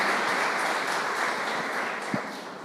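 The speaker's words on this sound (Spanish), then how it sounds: "Dale un aplauso al Señor y celebra su victoria." Congregation clapping in a church during a worship service, a steady dense wash of applause filling the room for the whole stretch, fairly loud and even, with no talk over it.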